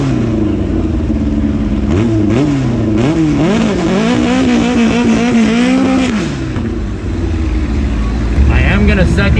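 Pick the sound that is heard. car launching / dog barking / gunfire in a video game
car launching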